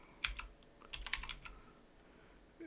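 Two short, close runs of computer keyboard keystrokes in a Linux terminal, crisp quick clicks separated by a brief pause, quiet and with no voices.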